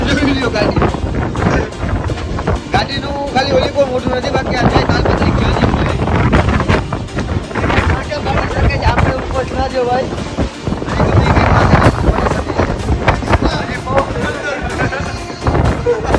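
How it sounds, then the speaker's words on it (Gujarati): Strong cyclone wind in Jamnagar roars and buffets the microphone in loud, constant gusts while a person speaks briefly underneath. "પવન ક્યાંથી આવ્યો આટલો બધું"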